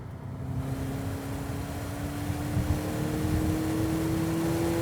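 A 2019 Acura ILX A-Spec engine hums steadily with its pitch slowly climbing as revs build past about 5,000 RPM into the VTEC crossover, a moderate continuous drone with no voices.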